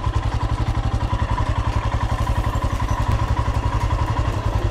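A motorcycle idles up close just after being parked on a trail near Sadhupul, Shimla, Himachal Pradesh, its engine thumping in a fast, steady beat that holds for several seconds.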